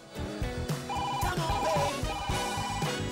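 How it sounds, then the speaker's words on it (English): A telephone rings in a pharmacy in repeated electronic trilling bursts, close and fairly loud, with no talk over it. "Why am I the only one answering the phone over here?"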